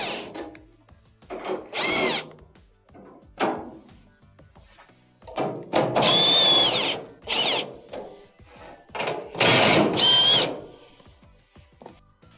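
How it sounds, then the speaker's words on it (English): Power drill spinning out quarter-inch screws from a Maytag dryer during drum assembly repair: several loud whirring bursts of a second or two each, close up, separated by short pauses and light handling clatter. "you have a couple of 1/4" screws on each side that have to be taken off"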